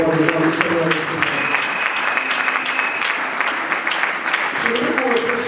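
A church congregation applauds, a dense burst of clapping from a crowd with voices mixed into it, steady and fairly loud throughout.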